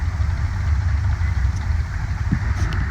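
A steady, loud, rumbling idle comes from the LS-engined, nitrous-fed Outlaw race car at an off-road hill climb. The engine throbs close by without a break, and no one speaks.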